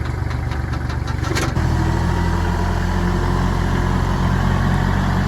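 A tractor engine idles with a steady, loud low rumble while carrying a riding mower in its bucket; a few rattling clicks come early before the drone settles into an even hum.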